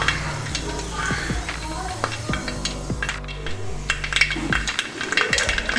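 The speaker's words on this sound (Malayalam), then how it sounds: "കടുക് പൊട്ടി തുടങ്ങിയപ്പോഴേക്കും ഞാനിതിൽ മുളക് ഇടാം" Mustard seeds and dried red chilies fry in hot oil for a Kerala beef roast, a steady close sizzle with sharp crackling pops and the occasional scrape of a spoon stirring the pan.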